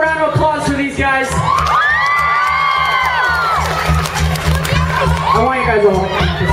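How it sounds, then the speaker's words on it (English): A live concert audience, many of them children, cheers, whoops and shouts loudly and continuously, with voices talking over the crowd noise throughout. "Can we give a round of applause for these guys?"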